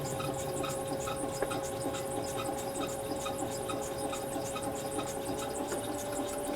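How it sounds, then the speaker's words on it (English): A metallographic sample is ground by hand on a grinding surface, making a continuous close scraping rasp with a faint rhythmic pulsing and no speech. "I rotate the sample 90 degrees and put it down and grind again."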